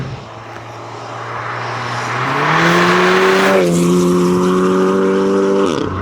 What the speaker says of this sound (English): Oh, the noise, the turbo noise.